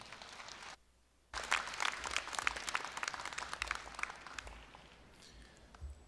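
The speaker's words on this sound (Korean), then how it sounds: "큰 박수로 맞이해 주시기 바랍니다" Audience applause greeting a foundation board chairman at a Korean university ceremony, bursting in after a short hush and continuing as dense, steady clapping across the hall before slowly thinning out.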